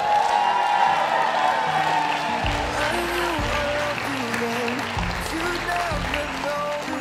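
Wedding guests at a reception in Kew Gardens clap and cheer loudly, a few whoops poking through, while music plays softly underneath.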